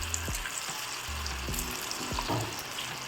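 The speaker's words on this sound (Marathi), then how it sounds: "आता आपल्याला यामध्ये ते इडली फ्राय करून घ्यायची आहे." Leftover idli pieces fry in hot oil over medium heat, a soft continuous sizzle with a few low thuds and light handling knocks, close and moderately quiet, with no speech.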